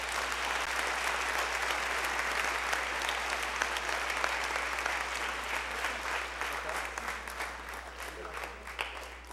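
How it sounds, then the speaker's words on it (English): An audience at a middle school spring band concert claps for the band students, sustained dense applause that stays loud and even throughout, with no voices standing out. "if we could give them one quick round of applause"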